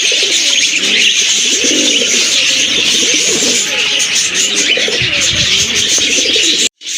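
Many adult pigeons at a bird sale coo steadily and close by, with soft throaty calls overlapping in a dense chorus. Faint chirps and distant traffic sit underneath.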